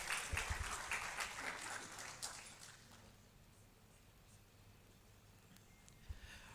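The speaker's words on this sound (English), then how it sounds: "Can we give him a round of applause?" Audience applause at a Uganda–UAE business forum, a burst of clapping that is loudest at the start and fades to a thin patter, with a few late claps near the end.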